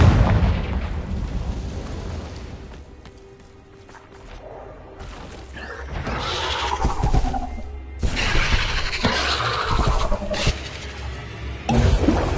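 A Confringo blasting spell explodes in Hogwarts Legacy inside an Acromantula cave, with loud crackling bursts and shattering booms over a rumbling, echoing backdrop.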